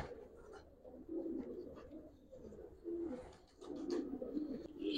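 Giribaz pigeons coo softly in low, repeated throaty bursts, faint and close, with rustling in between.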